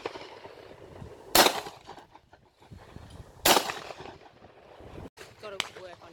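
Shotgun fire at clay targets on an outdoor range, two loud sharp blasts about two seconds apart, each with a brief echo, then quieter sounds of handling the gun nearby.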